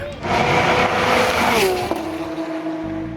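Race cars roar at the 24 Hours of Le Mans endurance race, a loud sustained engine note from a car passing close by, its pitch falling as it moves away.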